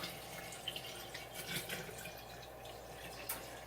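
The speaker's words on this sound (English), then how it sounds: "pour some water in here" Distilled water poured into a container for making a fermented ginger drink, a soft continuous trickle with a few light splashes, faint and close with no talking.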